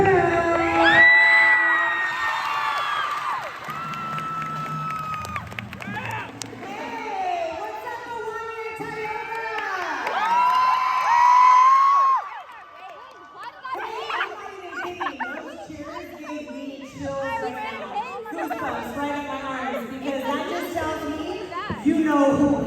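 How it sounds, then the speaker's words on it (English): A school crowd cheers at a high school Move Up Day event with loud whoops, yells and children's shouts that rise and fall over about twenty seconds, with a raised-voice announcer talking over the noise. "you know who we are when you're cheering that much"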